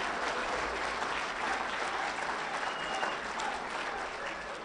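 Audience applause after a call to honour young people from a campus club at an evening political gathering in Saskatchewan, a steady, dense wash of clapping that holds for several seconds without spoken words.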